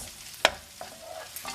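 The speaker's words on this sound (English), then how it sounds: "I'm going to go ahead to add the sweet bacon into the onion. I'm going to cook them for another 3 minutes" Sweet bacon and onion frying in a pan for broccoli bacon pasta, heard as a quiet sizzle with one sharp scrape or stir near the start and a few softer utensil touches after.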